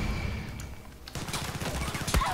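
Sniper and rapid gunfire in the video game Far Cry 6, a fast train of closely spaced shots growing louder after the first second, with one sharp crack near the end.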